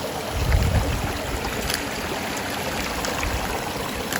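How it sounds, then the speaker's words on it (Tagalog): Water flows over rocks in a natural pond, a steady trickling, bubbling rush heard up close, with a few faint knocks early on. "Gusto ko naman makikita natin yung tubig na agos."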